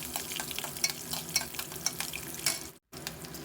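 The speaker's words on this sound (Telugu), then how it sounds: "ఈ పచ్చిమిర్చి చీలికలు కూడా వేసేసుకొని ఒకసారి ఇలా ఫ్రై చేసుకుందాము" Mustard seeds and slit green chillies frying in oil in a pan, a close, crackling sizzle with sharp pops and stirring, broken by a brief silent gap just before the end.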